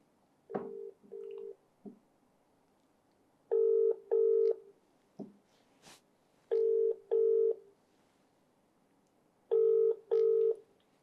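Touch-tone telephone dialing for a call into a live television talk show: paired DTMF beeps in short bursts of two, repeated several times with gaps, clear and close, with no talking.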